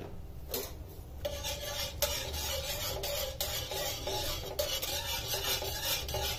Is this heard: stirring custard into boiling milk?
yes